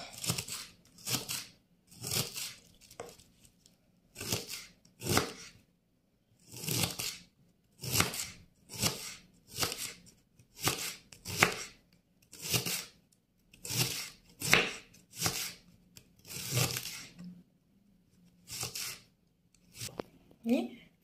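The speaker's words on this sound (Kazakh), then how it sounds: "Капустамызды осылай, орам жапырағымызды осылай турап аламыз" A knife chops through cabbage in steady, rhythmic strokes, crisp slicing cuts repeating close by with short pauses between bursts.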